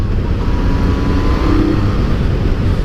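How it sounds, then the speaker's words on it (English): Yamaha MT-09 motorcycle on its stock exhaust, a throaty, loud engine drone holding steady at a fairly even pitch throughout, close and continuous, no voices. "It's got a really throaty engine sound that I actually like"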